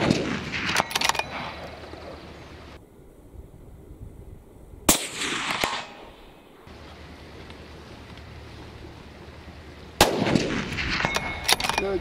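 A Mauser M12 Extreme rifle in 6.5x55 Swede fires three loud, sharp shots several seconds apart, each with a long rolling echo outdoors, with quieter wind-like background between them.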